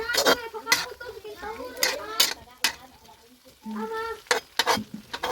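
Papaya cooking in oil in a brothy pan, with sizzling and stirring scrapes, under a person talking and children's voices nearby.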